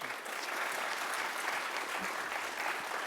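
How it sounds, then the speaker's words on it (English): The audience at a congressional district candidate forum gives steady, even applause. The clapping is moderately distant and continues without a break for the whole stretch. "Please give our candidates a round of applause."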